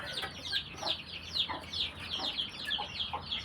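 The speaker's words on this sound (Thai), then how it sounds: "เป็นไก่สาวนะครับ" A young laying hen, about a year old, clucks in a steady run of short repeated calls, close and fairly loud, with no voices.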